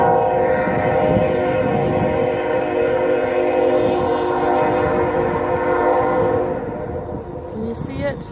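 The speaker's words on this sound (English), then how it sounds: "I have a freight train going by." A freight train rolls past beside a snowy walking path, its loud steady rumble and layered horn tones sustained for several seconds before fading into the distance, followed by faint footsteps.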